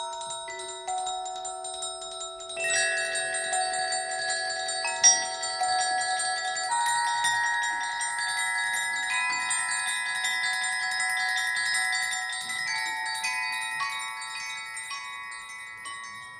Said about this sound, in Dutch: Ik heb dat palet van tonen van de huidige bel gebruikt en omgezet naar een stukje muziek van 1 minuut wat rinkelt